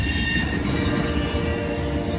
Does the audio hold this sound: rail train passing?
yes